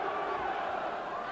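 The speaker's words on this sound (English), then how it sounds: "Crowd chanting, Bruno" A distant boxing-arena crowd chants for Frank Bruno during his heavyweight fight against Lennox Lewis, a faint, continuous roar of massed voices with no clear breaks.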